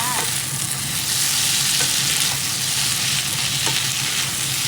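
Pad thai stir-frying with kale and egg in place of bean sprouts, a steady loud sizzle of oil and food throughout with occasional scrapes and clinks of the spatula.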